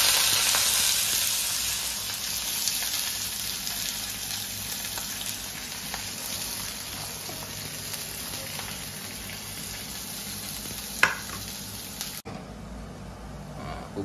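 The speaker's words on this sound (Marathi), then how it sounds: "आता कांदा टाकते." Onion frying in hot oil with mustard seeds and cumin, with a close, continuous sizzle that slowly eases in loudness, marked by a sharp clink near the end and then a sudden drop to quieter sizzling.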